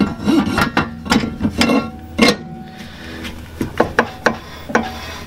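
A brake rotor on a Nissan 350Z being fitted onto the hub during an Akebono big brake kit install, giving a series of sharp metallic knocks and clanks, close and loud, with no talking.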